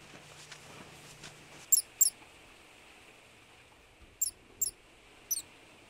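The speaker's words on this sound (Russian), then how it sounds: "Внимательно прислушивается к издаваемому зверьками писку и шороху." Field voles under winter snow give a handful of tiny high squeaks in two brief clusters, with faint rustling beneath them in an otherwise quiet outdoor setting.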